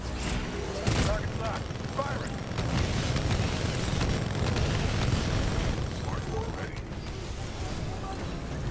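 Weapon fire and explosions in the Titanfall 2 video game form a dense, continuous barrage of booms and bursts, with a sharp blast near the start, under voices.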